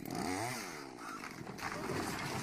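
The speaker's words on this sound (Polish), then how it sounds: "Coś tam piłujemy, to prawdopodobnie fundament, ława fundamentowa." Saw cutting through a concrete foundation footing, a rough grinding whine that rises and wavers in pitch, fairly close and continuous without speech.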